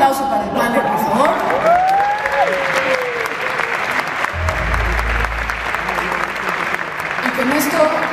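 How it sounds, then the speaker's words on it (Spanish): An audience at a music festival press conference applauds the panel with steady, dense clapping throughout, while a voice talks over it and a low thump of handling noise occurs midway. "Un aplauso para el panel, por favor."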